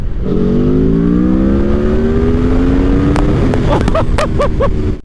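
An Aprilia Tuono V4 Factory 1000 motorcycle engine revs up close, its pitch climbing steadily in one long pull, then snapping through several quick sharp blips near the end.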